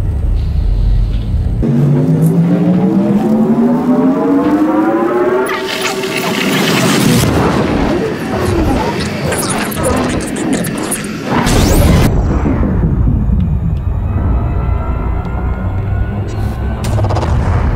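Frame shift drive jump in the Elite Dangerous space game: a loud rising whine climbs in pitch over several seconds, then a dense roaring rush of noise, ending in a settling hum with swirling tones.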